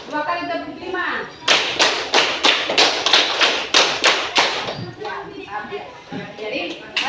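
During an Islamic studies class session, students clap together in a counted rhythm, a run of about ten sharp, evenly spaced group claps, framed by a speaking voice before and after.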